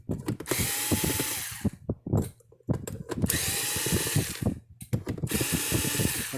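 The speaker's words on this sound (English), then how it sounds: "let's get the electric screw gun out so we can get this thing open up a little quicker" An electric screw gun drives out Phillips screws from an electric fence charger casing, in loud whining bursts of about a second and a half each, separated by short pauses filled with clicks and handling noise.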